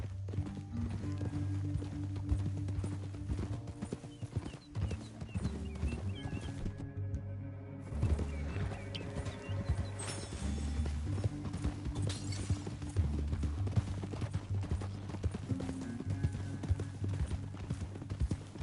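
Horse hooves in the Red Dead Redemption 2 video game give a steady, rhythmic clip-clop throughout, set against a dense game background.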